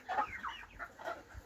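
Chickens and roosters in a poultry yard clucking, several quick overlapping warbling calls close by in a short burst.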